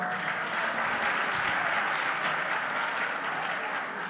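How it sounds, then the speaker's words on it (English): Another round of audience applause rolls through a youth event hall at an end-of-day gathering, steady and dense clapping with faint crowd murmur, consistent for the whole stretch. "Another round of applause, guys."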